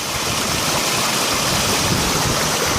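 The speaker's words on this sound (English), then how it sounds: "The brook is not a brook right now, not by any means." A brook swollen high after heavy rain rushes past, a loud, steady broadband roar of turbulent water close by with no voices.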